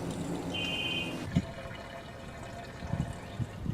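Water from a hose pours and gurgles into a pool pump while priming it at a pool opening, fairly quiet and close, with a brief high whine early on and a few soft knocks and splashes.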